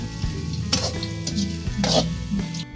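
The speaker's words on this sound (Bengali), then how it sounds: "এখন বেরেস্তা ভাজছি।" Sliced onions fry golden as beresta for mutton biryani on a clay village stove, a loud close sizzle broken by bursts of stirring in the hot oil.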